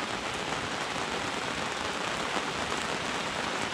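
Steady rain pours down during a thunderstorm on a fishing outing, a dense, even hiss of drops hitting surfaces close by with no pauses and no voices.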